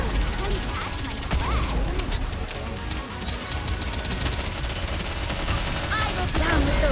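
Gunfire in the video game NIKKE rattles nonstop as a dense fusillade of rapid machine-gun bursts and shots, loud and close, with in-game voices talking over the shooting.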